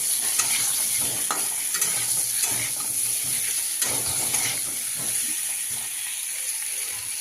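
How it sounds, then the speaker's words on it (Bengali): Potato pieces fry in hot oil in a kadai, giving a steady close sizzle broken by repeated scraping stir strokes throughout, with no talking. "আলুটা প্রথমে ভেজে নিচ্ছি"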